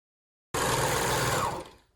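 A sewing machine stitching a waistband onto girls' underwear runs in a single steady, fast whirring burst of about a second, then winds down to a stop, with no talking.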